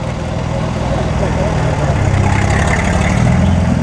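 A Rolls Royce car engine at the 2013 Concorso d'Eleganza concours event drones loudly and steadily, building slightly, amid dense broadband outdoor noise.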